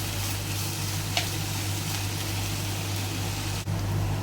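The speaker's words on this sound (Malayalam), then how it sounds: "നന്നായിട്ട് വഴണ്ട് വരുന്നിടം വരെ നമുക്ക് ഇളക്കി കൊടുത്തുകൊണ്ടിരിക്കാം" Onions sautéing in a pan for egg curry: a dense, even sizzle over a steady low hum, with a faint stir click and a brief dip near the end.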